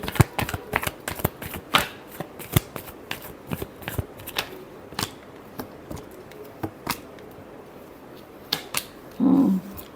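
Tarot cards are shuffled by hand in a rapid series of crisp riffles and flicks, close and fairly quiet, ending in a brief soft rustle.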